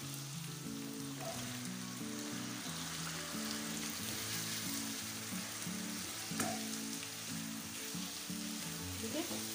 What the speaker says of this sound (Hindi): हमने अच्छी तरह प्याज के साथ ही भूनना है